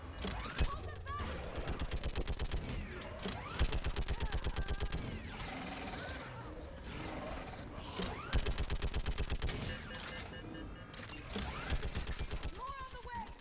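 Rapid mechanical gunfire from a mounted gun in Mass Effect 3 rattles in steady bursts across the clip, with other combat noise and shouted voices over it.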